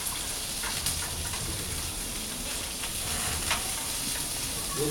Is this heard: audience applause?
no